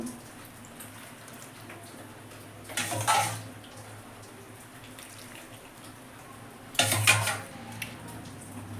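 A lid is set onto a pot of taro leaves simmering in a little water: two separate clattering metal clanks, a few seconds apart, over a quiet kitchen background.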